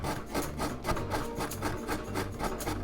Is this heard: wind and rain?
no